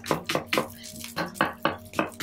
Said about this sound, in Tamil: சின்ன வெங்காயமும் வெள்ளைப்பூண்டும் போட்டு முதல்ல வதக்குவோம்.